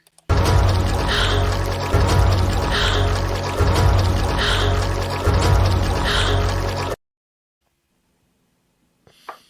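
Water flowing backwards in an animated scene from Raya and the Last Dragon, a loud rushing, pouring wash looping four times in rhythmic surges, then cutting to near silence with a faint breath or sound at the end.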